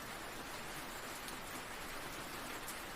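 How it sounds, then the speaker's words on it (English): Heavy rain pours steadily onto a cabin roof during a thunderstorm, a dense, even roar with scattered sharper drop hits over three seconds and no voices. "You could hear the rain intensifying even further, becoming a roar against the cabin roof"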